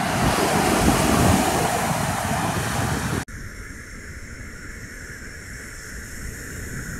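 Waves break on a wild beach in Portugal, a loud, broad rush of surf heavily buffeted by wind noise, dropping to a quieter steady wash partway through.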